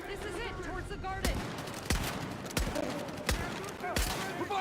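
Gunfire in the Battlefield 6 video game, several loud sharp shots at irregular intervals over a busy battle background, with voices shouting nearby.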